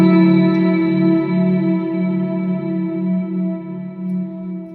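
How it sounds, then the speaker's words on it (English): A Line 6 Helix ambient guitar patch sustains a loud, steady chord washed in long reverb and delay, its swelling tail rippling gently throughout with a shimmering, chorus-like texture and no voices. "So it's basically a pretty long reverb and a delay with a really long tail on it."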